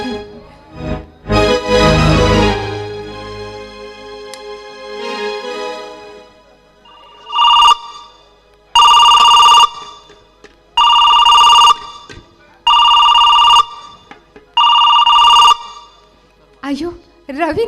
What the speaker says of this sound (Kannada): ಫೋನ್ ಮಾಡ್ತಾ ಇದ್ದಾರೆ